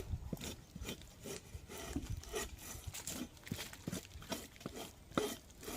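A durian tree trunk bored by beetles is scraped by hand, giving a quiet, rough, repeated rasping of bark in uneven strokes, close by and alone.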